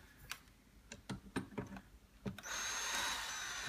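Faint taps and clicks of installing cabinet and drawer hardware, then a power drill whirs steadily near the end.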